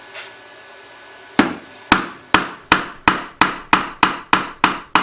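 A hammer strikes a punch to drive a stubborn pin out of a Camelback drill press part, about ten sharp metallic blows in a steady rhythm after a quiet start, close and loud.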